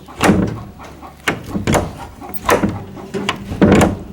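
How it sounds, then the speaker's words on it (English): The metal latch on a chicken feed room door clanks and knocks in a handful of sharp, close, loud hits spread unevenly over a few seconds, with no one speaking. "as soon as they would hear that clanking noise of that latch"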